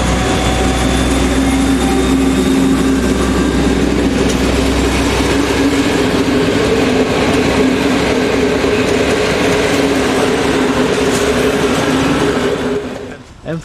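A Hungarian M62 diesel locomotive departs Zánka station with a passenger train, giving a loud, close, sustained engine drone and rolling rumble that holds steady before cutting off abruptly at the end.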